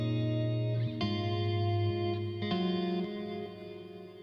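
Electric guitar chords ring out with sustained, effected tone and reverb tails, struck in a few distinct hits that fade and overlap, played alone with no voices.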